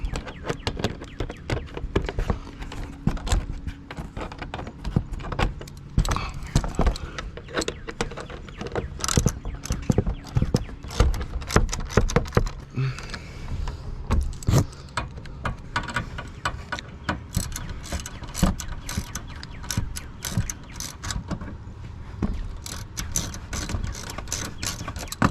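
A hand ratchet tightens bolts on a Ford Focus ST during an oil change, giving rapid clicking bursts over a long stretch with brief pauses between runs.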